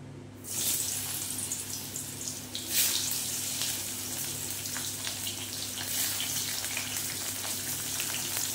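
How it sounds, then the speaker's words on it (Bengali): Sliced pointed gourd (potol) fries in oil with a loud, continuous broadband sizzle that swells sharply as the pieces go in and then holds steady throughout. "বন্ধুরা, এবারে কেটে রাখা পটলগুলো আমি ভাজবো।"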